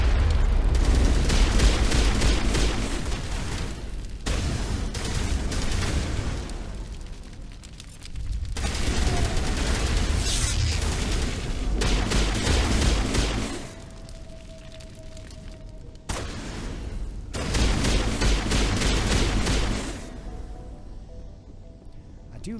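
Pistol fire in the video game Mass Effect, fought against Geth, comes as dense, loud bursts of shots and booms in repeated volleys separated by brief lulls, with a faint voice in places.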